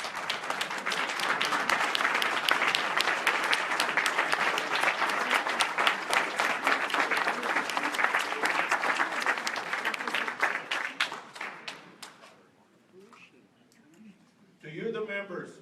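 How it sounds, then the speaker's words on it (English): Standing ovation from a town hall audience: dense, loud, sustained clapping for about twelve seconds that thins out and fades, followed by a brief pause and then a voice beginning to talk. "Please give Terry a standing applause."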